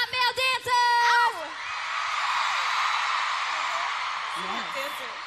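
An arena concert crowd at a show screams and cheers loudly in a sustained roar, following brief amplified shouting from the stage at the start.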